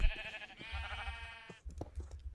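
Minecraft sheep give a single wavering bleat lasting about a second, followed by a few soft thuds and clicks from the video game.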